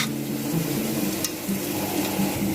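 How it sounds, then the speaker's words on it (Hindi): Ghee heating in a pressure cooker gives a soft, steady sizzle close by, with faint scraping or stirring and a light metallic tap partway through. "इसमें 1 टेबलस्पून भरकर घी का डालेंगे और इसको अच्छी तरह गर्म होने देंगे"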